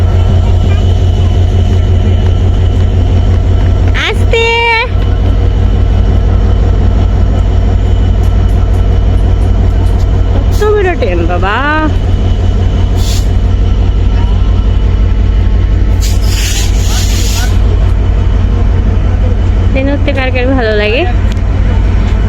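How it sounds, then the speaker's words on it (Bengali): Constant low rumble and rhythmic clatter of a moving train, with brief voices and short bursts of talk now and then. "আমার সবচেয়ে প্রিয় জার্নি হলো ট্রেন"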